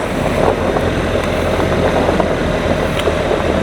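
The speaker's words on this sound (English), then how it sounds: "just second gear from that point. And I'm just riding through." A BMW R1300 GS motorcycle held in second gear while riding through, its engine a steady, loud, continuous drone with broad rumble and wind, unbroken for the whole stretch.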